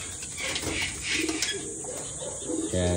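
Pigeons in a racing pigeon loft coo in soft, repeated murmurs against a steady background hum, close by and continuous, with no clear talking.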